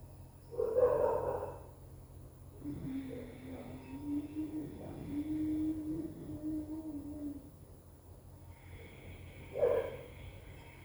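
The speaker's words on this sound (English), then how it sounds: "I'm breathing through the nose, but there is proper contraction of the throat." Ujjayi breathing drawn through the nose with the throat contracted, heard as soft hissing breaths near the start and end, with a low voiced hum or tone held through the middle, close and fairly quiet.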